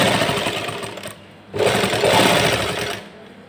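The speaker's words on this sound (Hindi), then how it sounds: "ये पहले मेन फैब्रिक की इस तरह से सिलाई लगाएंगे।" A sewing machine stitches the main fabric of a salwar in two close, loud, steady buzzing runs, with a brief dip between them.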